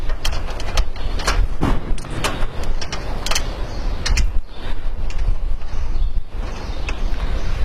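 A screw is driven into a solar panel mounting rail with repeated sharp metallic clicks and ratcheting bursts over scraping and handling noise, close and fairly loud.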